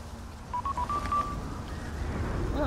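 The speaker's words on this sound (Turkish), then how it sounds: "GRA telsizini çalıyor." A handheld radio rings in the zombie survival game Dying Light, a short run of stepped electronic dialing tones over a low ambient rumble, fairly close.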